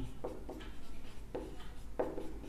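Pen strokes writing out a maths induction proof on paper, a few distinct scratchy bursts about half a second apart, close and clear with no talking.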